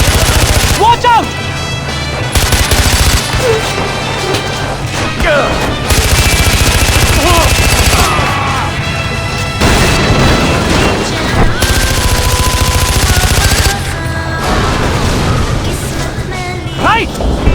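Sustained gunfire from the video game Far Cry 4, dense repeated bursts of automatic shots and blasts over loud game noise and music, with voices talking at times.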